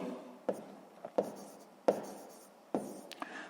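Pen or pencil writing out a sixth-grade math exercise solution on paper, heard as close, faint scratching strokes with several sharper taps as the tip lands, in short bursts with pauses between them and no talk.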